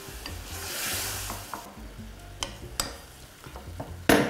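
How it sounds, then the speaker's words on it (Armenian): A utensil stirs salted buckwheat in a pot, with a soft scraping and sizzle, several sharp knocks against the pot, and a louder clatter at the end. "խառնում, ծածկում ենք և թողնում ենք եփվի"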